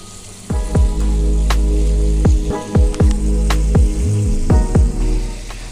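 Chicken sizzles in a pot for tikka pizza, loud steady frying broken by repeated ringing clinks and scrapes as it is stirred.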